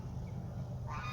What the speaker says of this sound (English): And now we're walking back this way, and all the ducks are coming back.